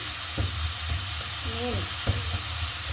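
Ground pork or beef browning in a frying pan for a sautéed eggplant dish gives a steady close sizzle and hiss, with a few stirring scrapes and a brief whistling tone partway through.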